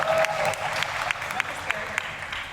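Audience applause at a Halloween convention, a steady wash of clapping from a crowd with a few sharper claps standing out, fairly loud and continuous throughout.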